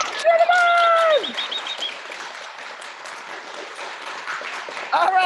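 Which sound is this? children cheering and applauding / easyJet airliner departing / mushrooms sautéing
children cheering and applauding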